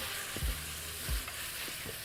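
Utensil scraping fond off a pan bottom while garlic and shallots cook, two firm low scrapes over a steady close sizzle and stir.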